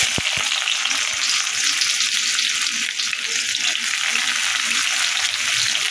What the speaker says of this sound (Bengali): পেঁয়াজগুলো একটু হালকাভাবে ভেজে নিই